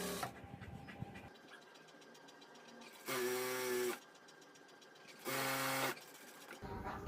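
A sewing machine stitches a folded fabric strip for a bra in two loud bursts of rapid whirring, each about a second long, separated by quieter handling noise and pauses.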